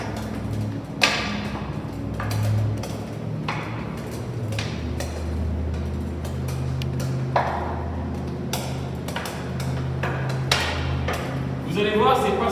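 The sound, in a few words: dribbling a floorball ball with a hockey stick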